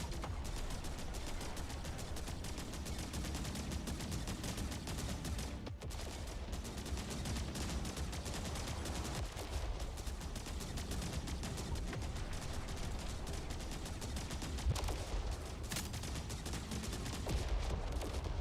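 Ship weapons firing in a space combat game, a continuous dense rattle of rapid shots with booming impacts layered over it, fairly loud and sustained with no talk.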